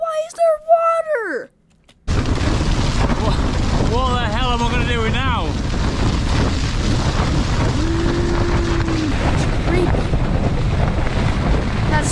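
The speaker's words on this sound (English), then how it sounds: "How did it get that windy?" Strong wind buffets the microphone in a steady roar at a lakeside campsite after a storm, with rushing and flapping noise throughout and a person speaking briefly over it.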